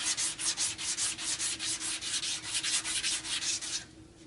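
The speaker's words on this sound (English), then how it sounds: "this is a new thing that I've been using for a little less than a year now. It's a soft sander." A soft sander block works over primer on a car body, making fast, rhythmic rasping strokes close up that stop abruptly near the end.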